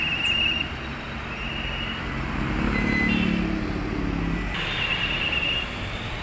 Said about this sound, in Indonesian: Ada bus